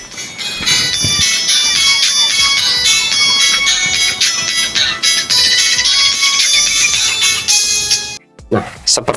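Music played back through MirrorSpace Gen 3 true wireless earbuds, a loud continuous stretch of bright tonal music with bell-like chimes that cuts out abruptly near the end, followed by a brief faint sound.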